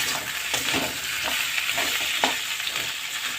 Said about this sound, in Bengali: এবার একটু আমি এটা নাড়িয়ে পারব এবার দেখো মিশিয়ে দেব এটা দিয়েও আমি একটু ভেজে নিলাম